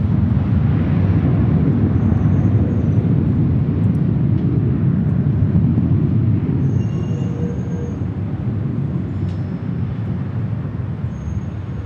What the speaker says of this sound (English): This is Sun Country Airlines 425 coming in from Minneapolis, St. Paul